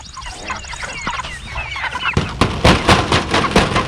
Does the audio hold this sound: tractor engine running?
no